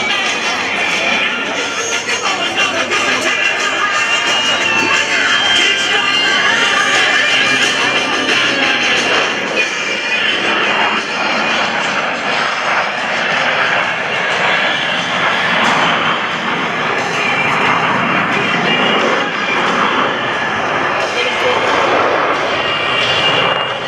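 Four US Navy Blue Angels jets in Diamond formation fly over an air show at a joint services open house, a loud, steady roar sustained throughout with a faint voice underneath.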